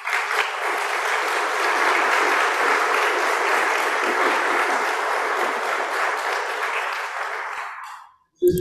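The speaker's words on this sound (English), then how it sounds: "Let's give them a round of applause." Audience at a celebration-of-life memorial for Julius Gyula Fabos applauds steadily for about eight seconds, a dense, even wash of many hands that fades out abruptly near the end.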